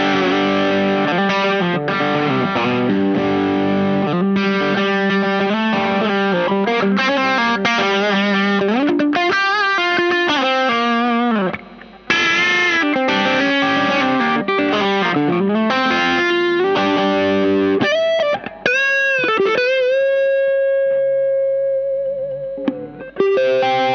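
An electric guitar runs through a Dazatronyx TSX overdrive pedal at medium gain, playing a loud, sustained lead line with bends and chords that falls to brief pauses and a few quieter final notes.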